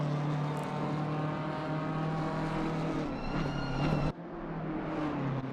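Racing cars in a sim racing game at Bathurst, engines droning steadily with a strong sustained tone, a higher whine briefly rising near the end before a sudden cut and a quieter continuation.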